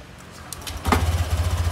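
A motor scooter engine fitted with a racing TPS part starts up after some faint handling noises, then idles and revs in a quick pulsing rhythm, close by and fairly loud.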